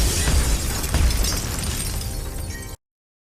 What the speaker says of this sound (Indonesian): Naas, salah satu anggota tim Suryavanshi, tewas dalam aksi bom bunuh diri tersebut.